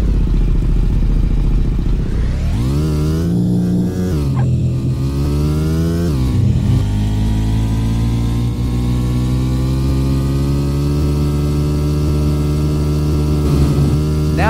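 Motorcycle engine in the mobile game Los Angeles Crimes, revving up sharply as the bike lifts into a wheelie, with rising and falling pitch sweeps before settling into a loud, steady drone.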